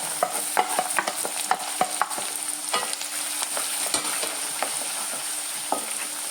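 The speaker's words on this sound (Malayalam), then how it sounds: "നല്ലോണം ഒന്ന് മൂക്കട്ടെ" Green chilies and curry leaves fry in hot oil for a garlic pickle, making a close, steady crackling sizzle broken by frequent sharp taps and scrapes of a spoon stirring the pan; no talking.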